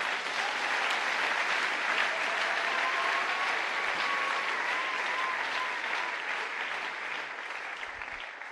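Church congregation at a seminar closing applauds in sustained, dense clapping that fills the hall, steady and loud before easing slightly toward the end.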